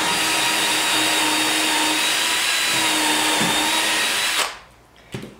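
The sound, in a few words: power drill drilling wood panel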